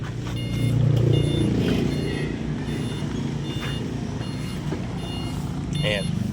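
Reversing beeps from a three-wheel e-bike backing up, a steady series of repeated electronic beeps under a low motor hum, with people talking nearby.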